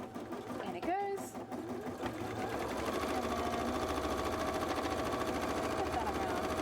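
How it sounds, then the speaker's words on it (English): Sewing machine stitching cosplay dress pieces, a steady fast mechanical whir running continuously near and loud after a brief start, with some background noise. "sewn together while my machine is still busy"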